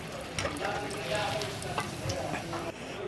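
Tofu frying in oil, a close, continuous crackling sizzle with light stirring scrapes throughout.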